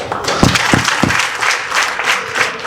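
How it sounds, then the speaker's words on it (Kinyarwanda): A congregation claps warmly for a priest's parents at a first-Mass celebration, sustained dense applause with a few heavy thumps early on, loud and near. "Amashyi menshi cyane ku babyeyi ba padiri wacu Jean Novatus Iradukunda"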